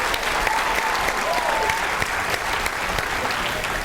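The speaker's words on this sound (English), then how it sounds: "Give yourselves a round of applause for being an agent already" Attendees at an evening gathering give a round of applause, a steady crowd of hands clapping evenly at moderate loudness for a few seconds, with no talk over it.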